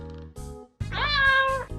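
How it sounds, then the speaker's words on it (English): A cat gives a clear, close, rising-and-falling meow that lasts under a second, with no talk over it. "Meow."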